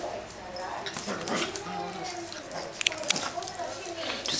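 A Cavalier King Charles Spaniel gives scattered growls, snuffles and chewing sounds nearby while a person keeps talking playfully over it.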